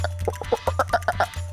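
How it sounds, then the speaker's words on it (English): A leopard frog calls in a rapid series of short, clucking pulses with a steady rhythm, moderately close, over a constant low hum. "It's a leopard frog."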